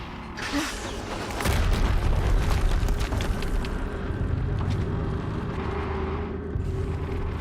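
A heavy explosion in the PC game Horizon Zero Dawn Complete Edition starts with a loud boom, then a dense, sustained rumble that rolls on for several seconds with no talking.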